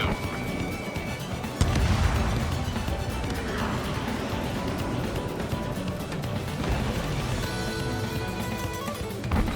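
Missile launches and explosions from the Ace Combat 7: Skies Unknown air-combat video game sound in a chaotic mix, with a sharp blast near two seconds followed by rumbling bursts and jet-like roar across the whole passage.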